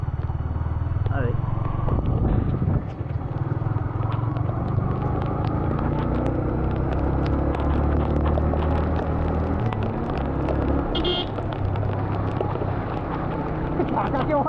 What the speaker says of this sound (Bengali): আমি বাইকটা চালাচ্ছি এত জোরে